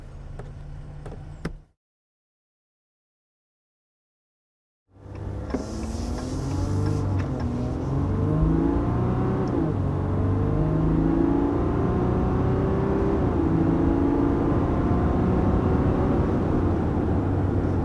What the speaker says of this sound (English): And there we are, about 65 miles per hour with this Eco Diesel Ram 1500 Limited